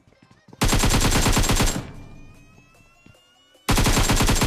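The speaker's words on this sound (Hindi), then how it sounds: "लेकिन भाई कोई बंदा पीछे से फायरिंग करता है बैरल से।" Bursts of automatic gunfire from a barrel in a battle royale shooter on the Erangel map, a loud sustained volley, a decaying tail, then another loud burst starting abruptly.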